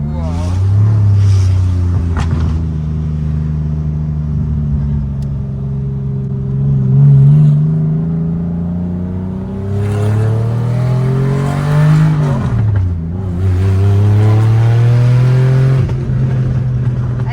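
RWB-modified Porsche 993 with a very loud engine heard from inside the cabin, rising and falling through repeated revs and gear changes, with a sharp surge near the end.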